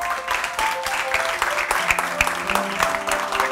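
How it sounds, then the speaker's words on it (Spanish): An audience applauds warmly at a film festival screening event in San Sebastián, with dense, steady clapping that keeps an even level throughout. "recibamos con un fortísimo aplauso"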